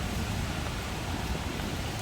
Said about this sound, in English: a typical example again of a heavy rain shower in Bangkok